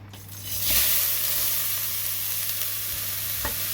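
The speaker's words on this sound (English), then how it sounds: "it's pretty hot, so it's ready to add the cauliflower rice" Cauliflower rice hits hot olive oil in a pan and bursts into a loud, steady sizzle that stays constant throughout, with a couple of faint clinks from stirring.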